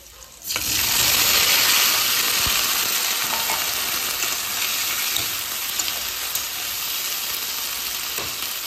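Green beans, potatoes, onion and green chilli hit hot mustard oil with a loud burst of sizzling that settles into a steady, close frying hiss, with faint stirring clicks and no talk.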